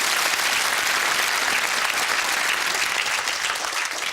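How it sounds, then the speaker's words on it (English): Studio audience on a UK game show breaks into dense, steady applause that fills the room at close range, holding strong throughout with no voices over it. "Yes, give him a round of applause."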